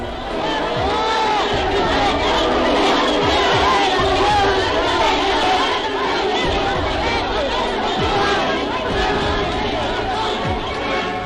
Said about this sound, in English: how the crowd booed and hissed the Italians as they evacuated according to plan